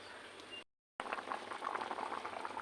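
Fish curry with taro boiling in a pan covered with a plate, a quiet steady bubbling simmer interrupted by a brief silent gap, then resuming slightly livelier with soft popping bubbles.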